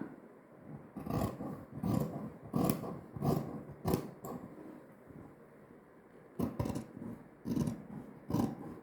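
Scissors cut through blouse fabric in two bursts of rhythmic, crunchy snips, each roughly half a second apart, close up with a short pause between the runs and no talking.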